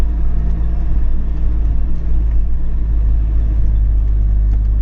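Diesel mini tractor driving in a circle around a farm field, its engine a steady, loud, close low rumble that holds even throughout with no talking.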